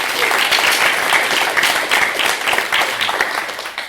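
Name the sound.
audience applause at conference closing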